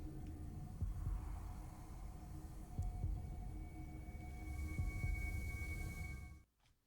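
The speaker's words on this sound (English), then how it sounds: "Ominous heartbeat noises." An ominous heartbeat sound effect from the video game Xenosaga plays as slow, deep thumps over a low droning hum, then cuts off into near silence at the end.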